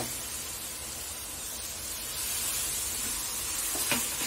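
Coconut halwa mixed with milk is stirred in a pan, giving a soft, steady sizzling hiss with faint scraping. The sound gets a little louder halfway through and a small clink is heard near the end.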